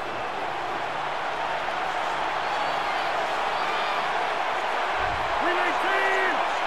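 A stadium crowd in the Madden NFL 25 video game boos the Buccaneers during a Packers vs Buccaneers matchup. It is a steady, broad wall of crowd noise that runs the whole time, with a voice speaking over it.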